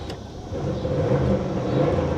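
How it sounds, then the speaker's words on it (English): An old Cadillac DeVille engine idles roughly up close, then swells in a brief, heavy rev as the gas is tapped, a low rumbling drone. "When I tap the gas, it dies."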